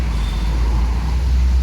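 Truck passing on a busy road near Alfamart Soekarno Hatta; a loud, steady low engine roar with broadband road noise runs throughout, close and continuous.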